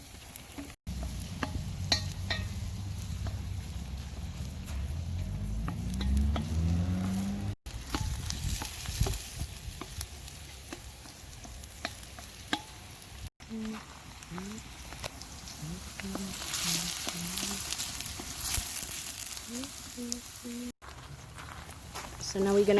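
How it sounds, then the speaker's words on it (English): Onion and garlic sautéing in about a quarter cup of oil inside a cauldron at an outdoor cookout, a steady low sizzle with stirring scrapes, heard under intermittent talk. "So first we're gonna saute the onion and the garlic."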